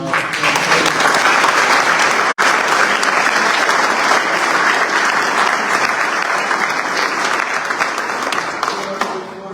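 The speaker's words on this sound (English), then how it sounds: "I think Khafeeir deserves a round of applause." Sustained applause from an audience at a book launch for the book "Rooted in Palestine" by author Khafeeir, steady and dense clapping for nearly ten seconds with one brief gap.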